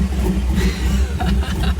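Engine-swapped postal service Jeep running, a low throbbing idle with a slight uneven pulse, close and steady, with a faint voice in the background.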